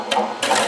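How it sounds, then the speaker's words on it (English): Lathe motor spinning while turning a large platter, a steady close whirring hum with a brief higher buzzing layer. "You can hear it, the rotation of the motor, especially down there."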